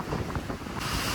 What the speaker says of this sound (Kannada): ಯಪ್ಪ ಏನ್ ಗಾಳಿ